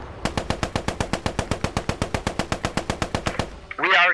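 Machine gun fire in the video game Post Scriptum, a steady rapid burst of about twenty-five close, loud shots over three seconds, followed by a short spoken radio call.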